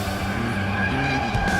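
A 2016 Ford Mustang Ecoboost drifts under full power, tires squealing in a brief steady screech over the engine note, heard close.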